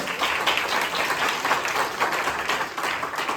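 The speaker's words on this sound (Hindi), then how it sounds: "बच्चों के लिए एक बार तालियां बजा दें" An audience at a Republic Day celebration applauds a children's performance, with dense, steady clapping from a crowd filling the whole moment.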